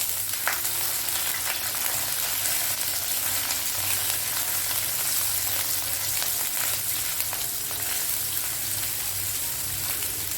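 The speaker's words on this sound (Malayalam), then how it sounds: "ഒരു 3 പച്ചമുളക്, കുറച്ച് കറിവേപ്പില, നമുക്കൊന്ന് വറുക്കാം." Three green chilies and curry leaves, with ginger-garlic paste, fry in hot oil for a Kerala-style meal, giving a steady close sizzle and crackle that lasts throughout with no talk.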